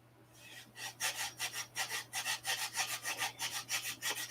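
Steady back-and-forth sanding strokes with 80-grit sandpaper wrapped on a stick or brass tube, smoothing a wooden cowl part; about fifteen rhythmic close rasping passes with no talk.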